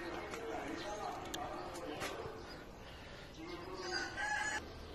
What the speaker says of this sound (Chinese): 那些公鸡住的挺高的，在树上搭了一个窝，拴起来了，脚上有绳子，叫一声。